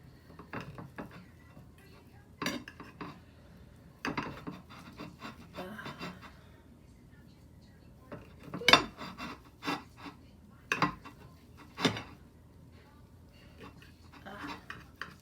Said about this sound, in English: Cut this into strips. This knife is a little dull, so bear with me.